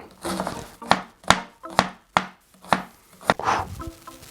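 A knife cuts through an onion on a board in a home kitchen, producing about eight distinct, fairly close thuds at an uneven, deliberate pace.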